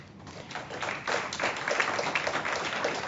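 An audience at an Americans with Disabilities Act anniversary celebration applauds the Disability Rights Office staff. Dense, even clapping from many hands fills the room and builds slightly as it goes on, with no voices over it.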